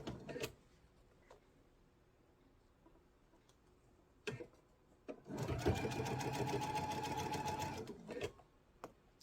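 A sewing machine stitches a quarter-inch seam using the guide on its plate, a dense close run of rapid mechanical ticking lasting a few seconds, preceded by scattered clicks and quiet handling.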